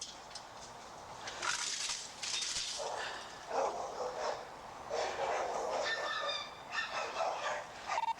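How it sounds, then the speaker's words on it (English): Several dogs bark in repeated bursts at moderate distance in a backyard while mauling a body, heard over a steady wash of background noise from an emergency response scene. "the dogs are mauling the body"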